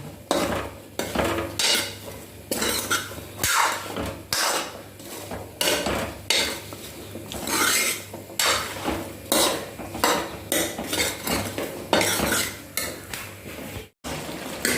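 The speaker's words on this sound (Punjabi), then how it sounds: "ਮਸਾਲੇ ਚ ਫੇਰ ਗੋਭੀ ਕੱਚੀ ਨੇ ਇਹ ਕੱਠੀ ਪਾ ਦਨੀ ਆ" Raw cauliflower is tossed and stirred into a spiced pan with potatoes, giving repeated scraping and clattering strokes of a spoon against the metal pan, close and fairly loud, over a low frying hiss.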